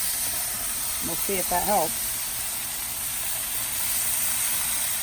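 Steam hisses off a 22-inch Blackstone flat top griddle as homemade pizza with a raw egg on top cooks, a steady loud broadband hiss continuing throughout while someone speaks briefly over it.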